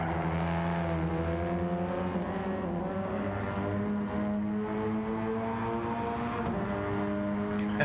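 A racing car engine in the Gran Turismo 7 video game whines steadily at high revs with a buzzy, thin tone like a weed whacker, shifting pitch slightly through gear changes, loud and continuous.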